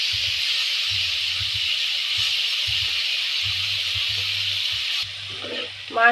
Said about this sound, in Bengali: চিংড়ি মাছটা ভাজার জন্য কড়াই তেল দিয়ে নেবো।